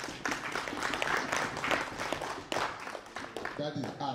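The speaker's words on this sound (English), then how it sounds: "Please give them a round of applause." A church congregation at a UK diocese gathering applauds visiting guests. The clapping is fairly quiet and continuous, with voices heard near the end.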